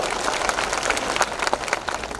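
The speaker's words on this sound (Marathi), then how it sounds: "टाळ्या वाजून आपण त्याचा आभार व्यक्त करूया" Audience applause at a political speech in Maharashtra, a dense, steady wash of many hands clapping for the full stretch, loud and close with no talk over it.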